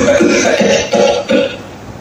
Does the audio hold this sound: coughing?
yes